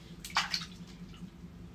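Water splashes briefly and close by as a rescued ring-necked parakeet is washed in a basin, a short burst of sloshing and dripping against a quiet background.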